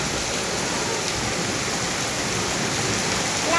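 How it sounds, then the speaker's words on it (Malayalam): Heavy rain pours down steadily in a dense, unbroken hiss, loud and close throughout with no voices. "അടിപൊളി മഴ."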